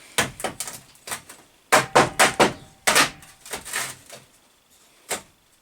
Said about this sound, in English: So what we're going to do is just tap these two together a little bit.